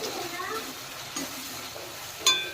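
Chicken curry with mint being stirred in a pot, a soft scraping and faint sizzle running steadily for a couple of seconds, with a brief sharper clink near the end.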